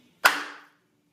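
A single sharp, loud pop from cupped hands smacked hard together around wet toilet paper, close by, with a short ringing decay and otherwise silence.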